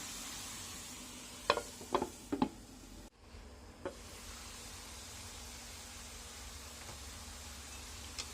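Chinese kale and shiitake mushrooms stir-fried in a pan, a soft steady sizzle with a few sharp scraping clicks of the spatula early on, fairly quiet throughout.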